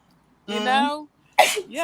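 A single sneeze bursts out near the close mic after a brief voiced intake, followed by a short pause and a bit of talk.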